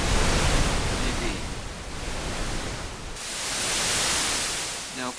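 A broadband pink noise test signal hisses steadily like a rushing waterfall, shifting in tone partway through, with a faint voice murmuring underneath near the end.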